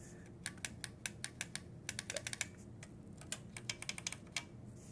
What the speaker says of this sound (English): It has been asked if futaba MA switches always sound pingy.